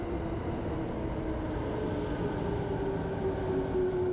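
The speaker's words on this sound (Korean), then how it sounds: "드디어 제가 탈 열차가 들어오기 시작합니다." A Japanese E217 series double-deck commuter train rumbles into a station with a steady low roar and a faint rising whine, fairly close, no voices.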